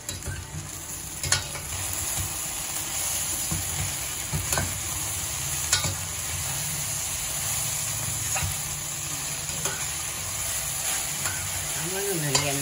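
Okra for bhindi kurkure is stirred into batter with soft, repeated scrapes and clicks of a utensil against a steady background hiss, close and continuous.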